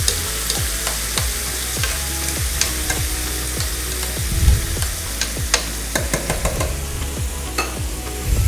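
Meat in a hot pan deglazed with white wine: a bright, continuous sizzle with a steady rhythm of scraping stirs against the pan, close and fairly loud, with no voices.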